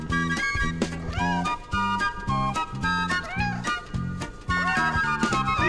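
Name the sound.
kitten meowing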